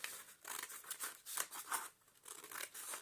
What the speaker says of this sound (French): Vous prenez votre paire de ciseaux et vous allez couper